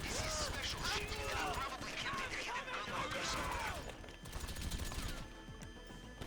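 Gunfire in Grand Theft Auto Online during a solo Cayo Perico heist setup, with guards nearby: repeated shots and bursts crackle densely over busy game effects and music, moderately loud throughout.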